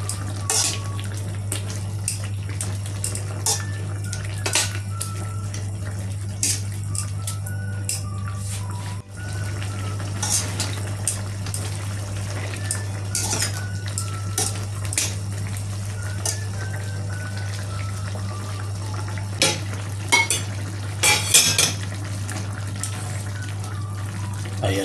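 A spoon stirs spicy honey chicken afritada in a pan, with soft scraping and a few sharp clinks over a steady low hum throughout.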